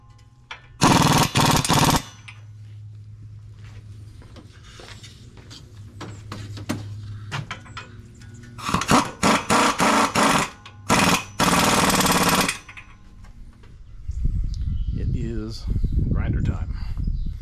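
Air-powered impact tool hammering in loud bursts while installing an axle truss and steering sector shaft brace on a 5th gen Ram 2500, with quieter stretches between runs and a person talking at times.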